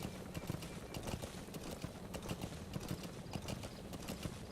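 Horse hoofbeats from D-Horse in Metal Gear Solid V: The Phantom Pain, a steady rapid clip-clop of galloping hooves, close and continuous throughout, with no talking.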